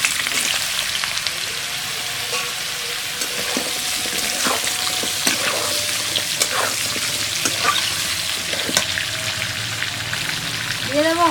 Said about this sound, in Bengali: চিনেমান কচুটাকে ভেজে নেব।